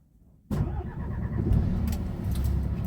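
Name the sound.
truck engine starting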